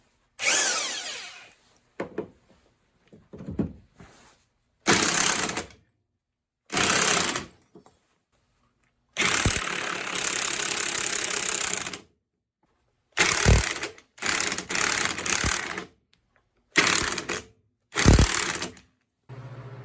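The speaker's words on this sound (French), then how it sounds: "je vais essayer de prendre mon impact" An impact wrench loosens the chuck on a Vevor BS-0 dividing head, firing in repeated loud bursts of rapid hammering, some short and one longer, separated by silent gaps.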